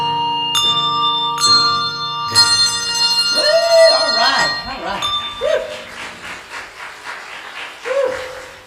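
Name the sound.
bells rung by one person in church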